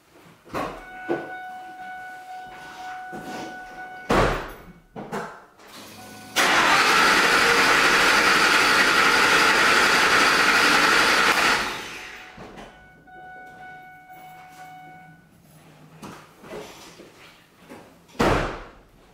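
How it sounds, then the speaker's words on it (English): A car engine cranks and catches, a loud sustained broadband roar lasting about five seconds between scattered clunks and door-like thumps, with a steady tone running in the background, during a test of a leaking injector. "I'll go crank the engine and see what happens."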